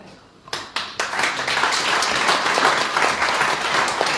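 An audience at the Trama di Libri e di Note cultural evening in Nuoro breaks into applause. A few separate claps open it, then they swell into a dense, sustained round of clapping that holds steady to the end.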